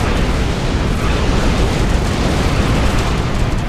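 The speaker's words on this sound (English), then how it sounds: "We got torpedoes everywhere." Torpedo explosions in a Star Trek Online space battle form a loud, continuous, rumbling roar of blasts that merge into one dense wall of noise with no pauses or speech.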